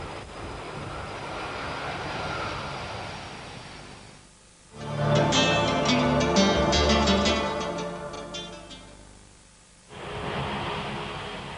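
Boeing 747-400 jumbo jet arriving, a loud broad roar of engines that drops away, then surges into a stronger whining rush as power and flap settings change before easing back to a steady rumble.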